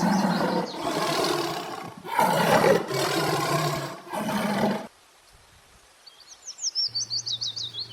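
A tiger roars repeatedly up close in long, deep, rasping bursts, four in a row, followed by quieter birdsong and a rhythmic low chirping pattern.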